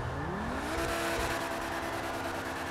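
A Lamborghini Sian engine in GTA V revs upward in a rising whine that settles into a steady loud drone, with continuous rumble and no talk.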